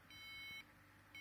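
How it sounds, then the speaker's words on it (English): An Arduino shutter protection system's alarm buzzer sounds a steady, faint electronic tone, cutting off briefly before starting again. "we can hear that buzzer buzzing"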